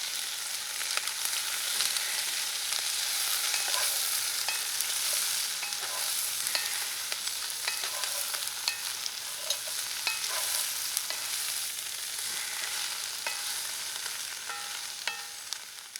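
Spoon stirring a seasoned dish in a pot over steady frying sizzle, with repeated light scrapes and clinks against the pot, close and continuous without speech.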